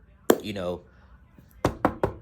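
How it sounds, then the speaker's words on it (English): Knuckles rap on wood in a quick series of four sharp, close knocks near the end, following a burst of talking earlier. "knock on wood"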